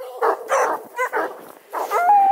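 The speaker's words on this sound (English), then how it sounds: "Are you barking too?" A four-month-old Redbone Coonhound puppy barks and yips in a quick run of about five short, close, loud barks, ending in a whimpering whine.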